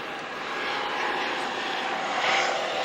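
A First World War aeroplane drones overhead at the Woodford Airshow, its propeller engine a steady broadband roar that swells as it passes, moderately distant and continuous, without speech.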